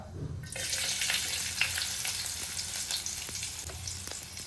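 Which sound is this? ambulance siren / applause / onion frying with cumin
onion frying with cumin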